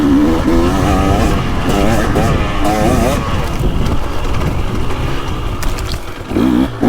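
KTM 300 two-stroke dirt bike ridden on a woods loop, its engine buzzing loud and close with rising and falling revs as the throttle is worked, continuous throughout.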